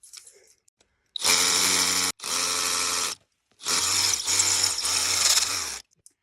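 A power drill bores into rock on a sport climbing route, whining in three loud bursts, high and harsh, with short pauses between them, close by.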